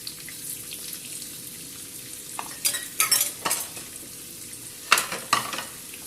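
Whole cumin seeds cook in hot oil in a pan with a soft, low sizzle, broken by a few louder bursts of stirring and utensil clatter.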